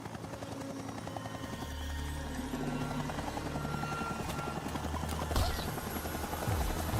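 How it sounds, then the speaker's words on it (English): A helicopter in the Far Cry video game, its steady rotor chop droning loud and continuous throughout, with a rising engine whine and rumble layered over the beat. "She's being escorted in a helicopter."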